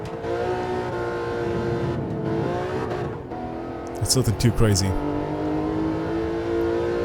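A BMW M3 E36 in Gran Turismo 7 laps the Nürburgring, its engine holding a steady drone with rising and falling revs and a brief burst of tire noise midway, running under continuous talking.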